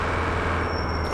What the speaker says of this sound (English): Do I hear my brakes squeaking?